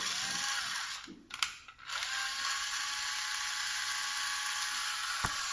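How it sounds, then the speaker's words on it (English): A power drill spins to twist fishing line for a homemade wind-on leader, giving a continuous high whirring hum with a slight ratcheting edge, briefly dropping near the start before running steadily on. "we're going to start putting twists into the line with the drill"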